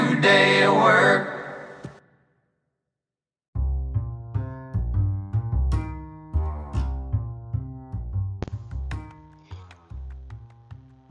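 A song: a dense stretch of music cuts to near silence, then plucked, rhythmic instrumental playing returns with steady accented notes, loud and close, without any singing.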